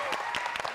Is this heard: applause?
yes